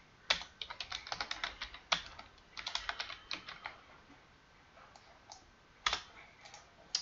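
Clattering bursts of typing on a computer keyboard entering a clear command during an Oracle 19c Data Guard setup, quick irregular keystrokes in clusters with short pauses, close and moderately quiet.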